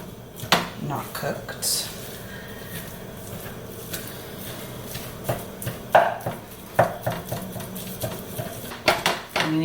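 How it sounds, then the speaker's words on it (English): A spatula chops food into small pieces in a big pan, giving irregular scraping taps and knocks scattered through the clip, with a person talking over them. "kind of cut it up into little pieces at first, because it's a lot easier to cut it up with a spatula"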